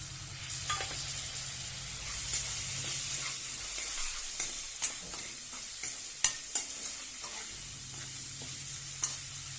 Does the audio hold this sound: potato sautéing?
yes